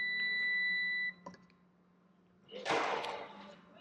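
A steady electronic beep tone from a prop shop inspection scanner holds for about a second, followed by a brief click and then a burst of rustling, muffled noise.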